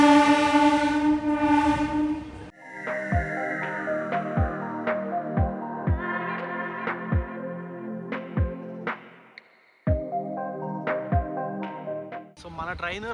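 MEMU passenger train sounding a long horn blast, followed by a rapid series of sharp rhythmic clanks and tonal squeals as it moves, another horn near the end, all loud and close.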